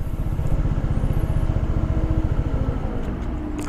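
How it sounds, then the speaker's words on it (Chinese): A SYM FNX125 scooter with an idle start-stop system idles close by, its engine putting out an even, rapid low putter that stays constant until a short bump at the very end. "怠速起步系统真的还不错哎。"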